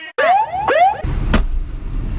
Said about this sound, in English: That's the sound of the police.